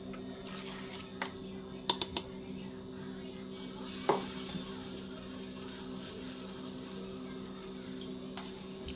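Semolina pancake batter frying in ghee on a griddle gives a soft, steady sizzle, broken by a few sharp utensil clicks and taps.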